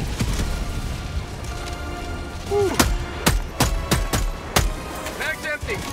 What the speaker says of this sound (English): Double rail cannons